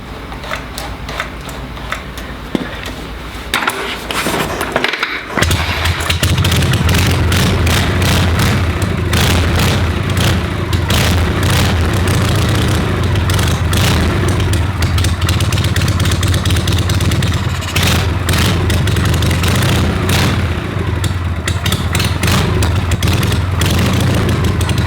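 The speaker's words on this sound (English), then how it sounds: "That is a One Kick Harley." A Harley-Davidson Shovelhead motorcycle engine fires after a single kick and settles into a loud, close, steady lumpy idle that runs on without talk.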